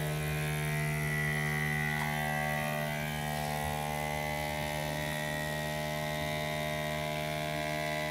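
Vacuum pump running steadily during field water filtration, drawing liquid through a 0.45 filter; a continuous droning hum with strong tonal whine, level and unbroken, fairly close and alone.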